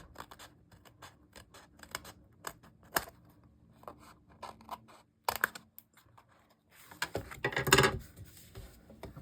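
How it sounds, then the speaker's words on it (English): Scissors trim the back edge of a handmade paper card in a string of sharp, close snips with pauses, ending in a denser burst of cutting. "I'm going to take my scissors on the back side and I'm going to trim it off."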